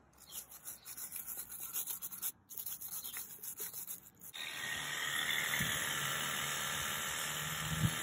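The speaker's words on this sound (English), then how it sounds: "Give it a proper good scrub." Scrubbing a bike clean with Muc-Off bike cleaner: brisk rhythmic brush rubbing and swishing up close, turning into a steady wet hissing scrub in the second half, with no talking.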